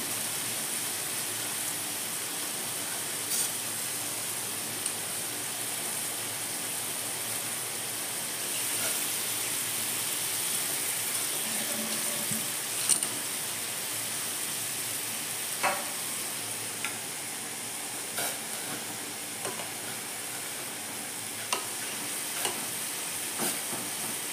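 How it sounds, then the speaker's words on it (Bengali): Chow mein noodles dropped into hot oil in a pan with salt for street-style chicken chow mein, giving a steady low hiss and sizzle with occasional sharp crackles and pops throughout. "এখন দিয়ে দেবো চাউমিন"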